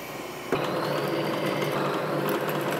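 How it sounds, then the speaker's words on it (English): A countersink bit on a milling machine bites into metal while framebuilding a mountain bike frame fixture: a sudden start of steady, grinding cutting noise that holds evenly at close range, alone with no talk. "That's my countersink."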